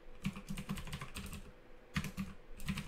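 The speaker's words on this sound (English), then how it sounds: "So let's just type" Fingers typing on a computer keyboard, a near, quick run of light clicking keystrokes with a short gap midway before a few more taps.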